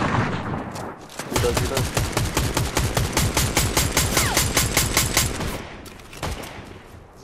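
Rapid automatic gunfire in a solo Fortnite match: a fast, evenly spaced string of loud shots lasting several seconds, then tapering off, with voices talking now and then.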